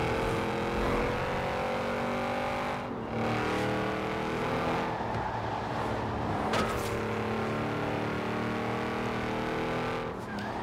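Audi RS7 engine in a racing video game, roaring loud and close as it revs up and shifts through gears, with a sharp backfire pop and brief tire squeal partway through.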